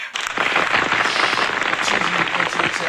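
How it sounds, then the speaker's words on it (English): Dense, crackling applause from a crowd, loud and continuous throughout, with no voices standing out. "Everybody give him a round of applause"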